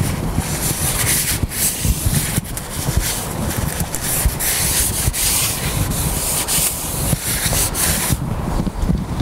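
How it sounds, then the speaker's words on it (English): Brake cleaner sprayed onto the outer face of a Range Rover Sport rear brake disc, a steady loud aerosol hiss with rubbing, continuous for the whole stretch. "now we clean the outer face of the disc with a brake cleaner"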